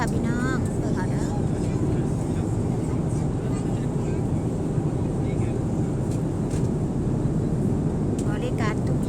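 A steady, droning airplane cabin hum fills the air during flight as someone speaks over it, announcing the drinks service to passengers.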